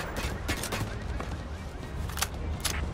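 Heavy automatic weapon fire from an overkill weapon in the Payday 3 bank heist game, sustained rapid bursts with sharp transient spikes over a busy mix, with players talking underneath.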